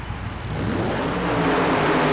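A super-modified mud racing car named Let's Boogie launches hard off the starting line at a 1991 event in Worcester, Massachusetts, its engine note rising loud and close in a continuous building roar with no talk.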